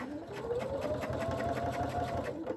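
A sewing machine stitches through the exterior and lining of a nesting travel zipper pouch in a short, even burst of rapid needle clatter with a rising motor whine, close and alone.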